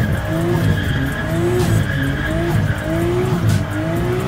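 A BMW on a stock steering angle drifts with loud, sustained tire squeal over a strained engine note, the screech rising and falling in repeated waves without any voices.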